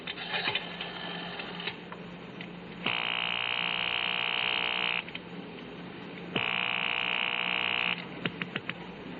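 A telephone rings on a payphone call in two long, steady buzzing bursts separated by a pause, heard faintly and alone.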